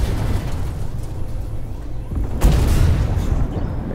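Tank cannon fire from a Vickers MK7 main battle tank in a combat video game: a low, rumbling battlefield bed with one sharp heavy boom near the middle, followed by a sustained roar.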